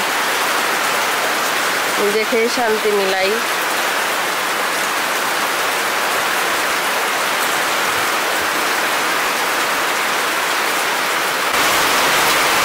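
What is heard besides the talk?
heavy rain falling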